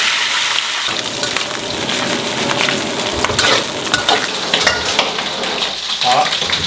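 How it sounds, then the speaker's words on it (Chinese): Pork belly frying in a wok with a little oil to render the fat, a loud continuous close sizzle with scraping strokes of stirring throughout. "锅里倒一点点油，五花肉下锅，把油点出来，"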